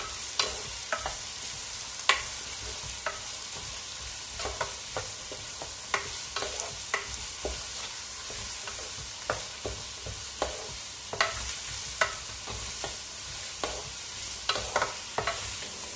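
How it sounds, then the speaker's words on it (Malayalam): Onions sautéing over a raised flame in a pan for a Kerala-style egg curry, with a steady sizzle under repeated sharp clinks and scrapes of a stirring spoon against the pan, close and fairly loud throughout, no talking. "എന്നിട്ട് നന്നായിട്ട് ഈ ഓണിയൻസ് സോട്ട് ചെയ്തെടുക്കാം"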